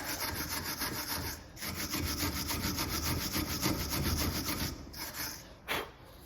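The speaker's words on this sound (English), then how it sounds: "And one last time with a wire brush." A wire brush scrubs a Ford Transit brake caliper carrier during a brake job, making fast harsh rhythmic scratching strokes up close that carry on steadily before a brief pause and a final burst.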